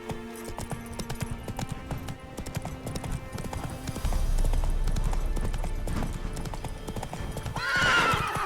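Roach, a horse in The Witcher 3, trots with rhythmic hoof clip-clops and a low rumble of movement, then lets out a loud, close whinny near the end, with faint background voices mixed in.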